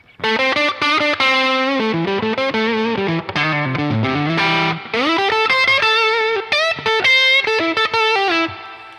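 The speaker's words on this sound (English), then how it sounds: "a great like classic blues overdriven neck pickup sound" A distorted electric guitar on the neck pickup plays a bluesy lead line with sustained, overdriven notes and bends, loud and up close, with no voices.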